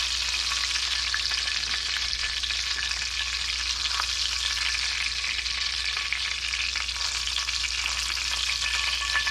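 Bacon-wrapped snipe frying in a pan, a steady, close crackling sizzle with fine spattering pops, continuous and even throughout with no voices.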